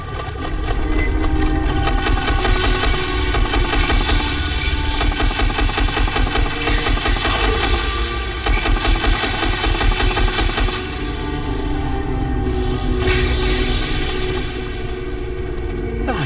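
Dense, continuous automatic gunfire from the sci-fi shooter Aliens: Fireteam Elite, loud and sustained for the whole stretch with brief dips, set over a low rumbling game soundscape.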